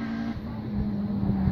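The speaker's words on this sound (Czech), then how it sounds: "Oktávka, ty vole, konečně auto." A Skoda Octavia rally car roars past at a rally, its engine note loud and steady for a moment, with a strong low drone throughout and no one speaking.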